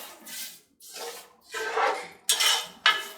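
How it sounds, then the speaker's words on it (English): A spoon scrapes and knocks around inside a metal pan of sugar and water in several uneven bursts, close and fairly loud. "And stir it."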